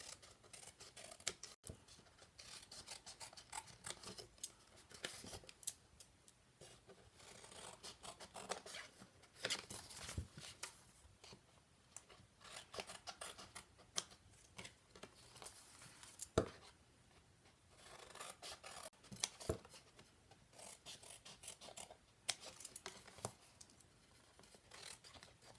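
Scissors or shears snipping along the edges of a tool caddy to make mitered cuts, sounding as quiet, scattered crisp snips and clicks at a close distance with no talking.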